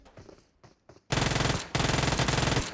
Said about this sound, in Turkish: İleriden sıkan var tekrardan.